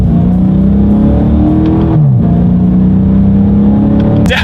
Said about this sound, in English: I'm going to test out the paddle shifters for you guys here